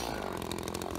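An ECHO CS 330T 32cc chainsaw cuts through hard maple, its engine snarling loud and steady at close range for the whole second, with no talking over it.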